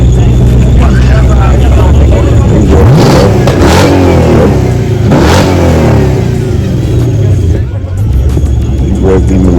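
A car engine revving outdoors among exotic cars on Broadway, a loud throaty roar swelling in a few rising surges over a steady idle, with people talking underneath.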